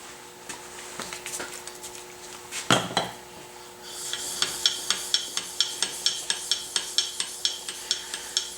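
A hand plane iron sharpened on an 8,000 grit stone, with steady rhythmic scraping strokes of metal across the wet stone, close and clear, preceded by a sharp clink and some handling noise.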